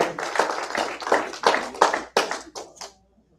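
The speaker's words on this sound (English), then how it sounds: "Y'all give him a round of applause." A group bursts into applause in short, uneven waves of clapping that swell and cut off, ending abruptly in silence after about three seconds.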